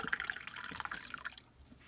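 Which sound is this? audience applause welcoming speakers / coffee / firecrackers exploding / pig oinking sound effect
coffee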